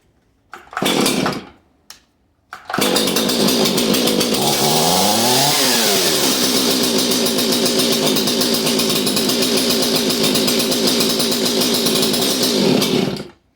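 A flooded chainsaw with a suspect kill switch fires after two short pulls, then runs loud and steady for about ten seconds, with its pitch rising and falling in one revving sweep before it is choked and dies.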